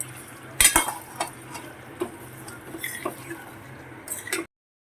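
Potato curry with coriander powder, sugar and lemon juice being stirred in a pan, soft spoon scrapes and a few louder clatters against the pan, close up, no talking over it.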